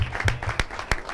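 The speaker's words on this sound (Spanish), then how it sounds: "Un aplauso de bienvenida a Liet, muchachos." A few people clap in an uneven pattern to welcome a guest at a small gathering. The claps are close and sparse, more a handful of hands than a large crowd.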